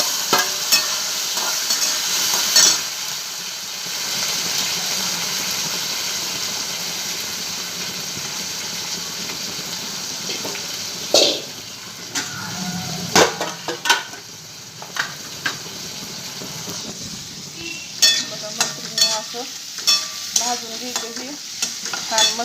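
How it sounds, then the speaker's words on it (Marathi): Curry leaves, coriander and tomato sizzle loudly in hot oil for a brinjal curry, with a steady frying hiss and intermittent clinks of a spoon stirring against the pan. "तेल आता कडीपत हे कोथिंबीर घालायची आणि टमाटर घालून घ्यायचं"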